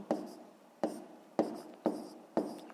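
Pen strokes on paper while writing out a fifth-grade math exercise: five short, evenly spaced scratching bursts, close and quiet, with no talking.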